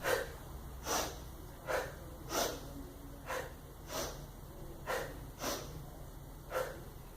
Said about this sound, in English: So we're going to take a deep breath in and then exhale.